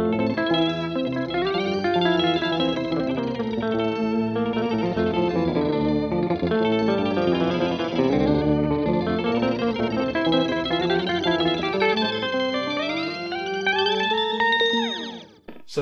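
Electric guitar run through an EQD Organizer pedal with its lag control turned all the way up, giving a lush, organ-like chorused tone with layered sustained notes and a swooping pitch-bending tail at the end, loud and continuous with no talking.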